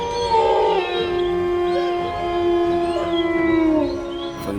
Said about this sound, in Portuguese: ela uivou.